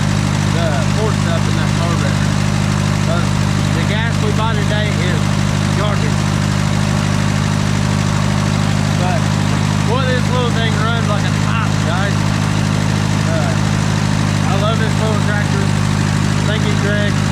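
An Allis-Chalmers B tractor idles with a steady, loud, low hum, left running until the gas in its carburetor runs out. Voices talk over the constant engine drone throughout.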